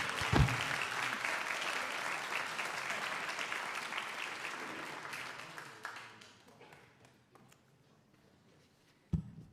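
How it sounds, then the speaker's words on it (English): Audience applause fills a morning forum lecture hall in Los Altos, California: sustained, even clapping for about six seconds that tapers off into quiet room tone, with one sharp knock near the end. "And now, a round of applause."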